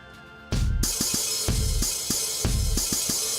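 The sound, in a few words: imitated oil rig machinery noise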